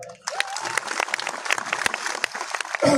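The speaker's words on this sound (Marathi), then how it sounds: "एकदा पुन्हा जोरदार टाळ्या द्या" A crowd at a Dhamma conference public gathering breaks into loud, sustained applause with many overlapping claps, starting abruptly after a voice and ending as another voice returns.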